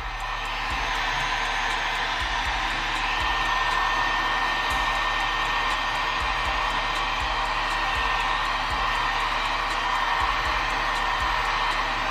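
Heat gun blowing across epoxy resin coasters, a steady, loud, close-up whoosh of hot air that holds for the whole stretch, with faint rhythmic low thumps underneath.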